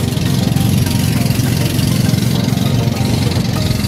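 A loud, steady drone from a boat's two engines with a low rumbling throb runs continuously, close and unbroken, with no voices.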